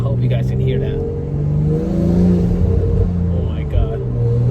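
A BMW X3 M40i fitted with a CTS intake revs hard up close, the engine note rising and falling through several throttle blips with a deep rumbling growl, while people talk excitedly over it.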